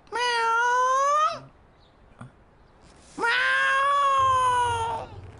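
A person imitates a cat, giving two long, drawn-out meows separated by a short pause, loud and close.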